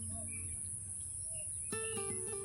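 Birds settling among the blossoms of a kadam tree, several faint chirps and short calls over a steady outdoor hum, with a brief run of clearer tonal calls toward the end.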